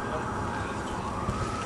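An ambulance siren wails continuously in the background of a wrestling event, a steady tone at moderate volume with crowd noise around it.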